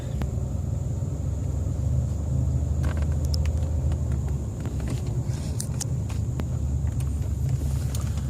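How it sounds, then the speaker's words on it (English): A 1990 Cadillac Coupe DeVille's engine rumbles steadily from inside the car as it accelerates, a low continuous drone with faint clicks and rattles, no talking. "So the car accelerates just fine."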